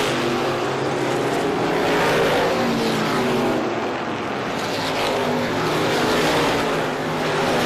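Race cars roaring around a short track during the final laps of the 2017 Randy Whitcomb Memorial, a dense, steady engine drone with no clear passes standing out.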